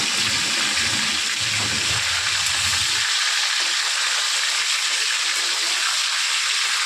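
A fish head fries hard and crisp in hot oil, giving a steady bright sizzle that carries on alone through the clip, with a low bubbling undertone in the first half that drops away.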